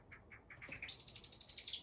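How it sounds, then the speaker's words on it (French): Small birds chirp and twitter nearby in a quick series of high, bright notes rising into a trilling burst. "Entendez même les petits oiseaux chantent avec nous."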